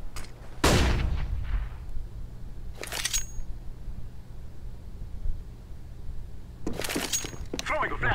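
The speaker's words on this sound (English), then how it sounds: "I'm throwing a flashbang." A flashbang grenade bursts in a video game: one sharp, loud bang with a brief ringing tail, set among muffled game sounds and short crackly bursts, with people talking.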